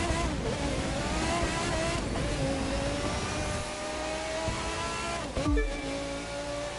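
Seven hypercars, a Carrera GT among them, launch from a racing-game grid start in The Crew 2. A loud, sustained engine roar climbs through rising revs, with a brief thump and surge near the end.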